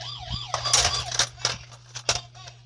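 A toy police siren warbles up close, its wailing tone broken by sharp clicks and knocks of handling, over a steady low hum.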